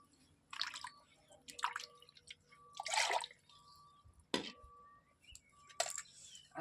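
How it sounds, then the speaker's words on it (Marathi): Water from a rinsed mixer jar poured into a mutton curry cooking over a wood fire, several separate splashy pours and trickles with pauses between, close and distinct. "मिक्सरचं भांडं धुवून जरा टाकूया पाणी"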